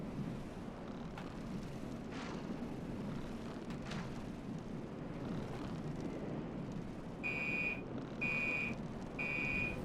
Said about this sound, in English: there's a car alarm going off